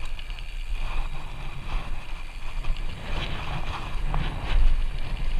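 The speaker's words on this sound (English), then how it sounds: "Holy wind." Strong wind buffets a microphone while riding outdoors near a skatepark in Wasilla, a steady low rumbling roar with gusty surges that swell loudest near the end, no talking.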